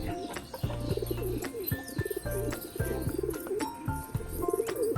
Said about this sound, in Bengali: আজকে গোলাপায়রা দুটো এসছে